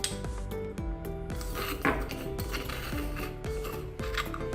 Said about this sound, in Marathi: हे आपण जाडसरच कुटायचे, अगदी बारीक नाही करायचं मिक्सरला लावून